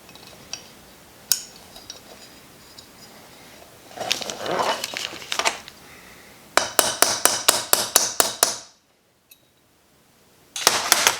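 A run of quick metallic hammer taps driving a pin into an AR-15 pistol lower, first scattered, then a rapid steady series of sharp strikes, close and loud.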